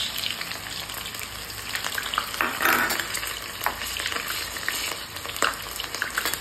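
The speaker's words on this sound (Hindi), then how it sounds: "अब ये थोड़ा प्याज को ब्राउन होने तक पकने देते हैं" Chopped onions fry in a pan with cumin for besan gatte sabzi, giving a steady close sizzle with scattered crackles and stirring scrapes throughout.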